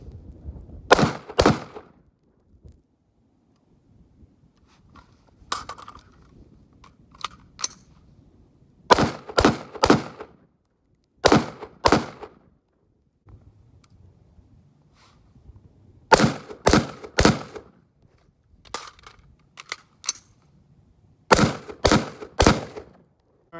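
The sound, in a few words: rifle gunshots at a shooting range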